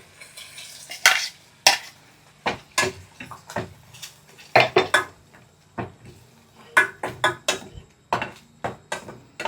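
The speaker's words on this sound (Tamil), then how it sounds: "போட்டு அதை நல்லா ஒன்றா மிக்ஸ் பண்ணி வதக்கிடலாம்" Ground masala paste being mixed and sautéed in a pan over low heat, with repeated sharp scraping and clanking of a spoon against the metal pan in irregular bursts over a faint background.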